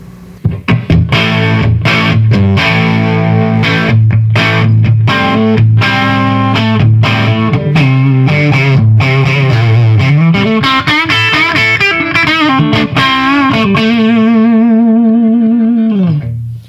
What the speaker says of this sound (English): It's very subtle overdrive, but it is overdrive.